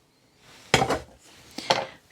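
Onion pieces dropped into a mug, giving two short, quiet clunks against the ceramic less than a second apart, close by in a still room.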